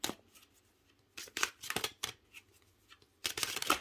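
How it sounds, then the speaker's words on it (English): A tarot deck being shuffled by hand, with crisp papery riffles and card flutters in short bursts separated by quiet pauses, close and fairly soft. "I shuffled this deck."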